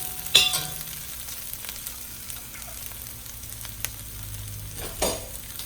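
Thai crab fried rice cooking in a pan, a soft steady sizzle with a couple of brief clinks and stirring scrapes, close and fairly quiet, no talking.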